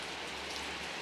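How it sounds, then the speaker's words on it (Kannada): Heavy rain pouring near a house, a dense, steady wash of broadband hiss with no break, loud and close, with no voices. "ಫುಲ್ ಮಳೆ"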